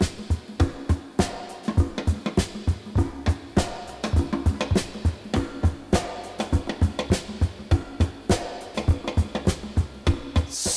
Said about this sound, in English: I love the syncopation between the conga and Marvin Gaye's drum overdub